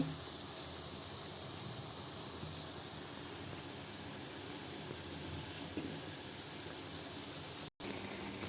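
Medu vada deep-frying in hot oil until golden brown, a steady, even hiss of bubbling oil that runs throughout with no voices, broken only by a very brief dropout near the end.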